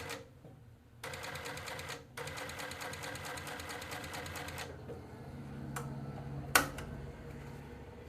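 A post-bed sewing machine stitches two layers of 1000D Cordura with Tex 90 thread, a fast, steady mechanical chatter running in bursts with brief pauses, then easing into slower, softer stitching near the end.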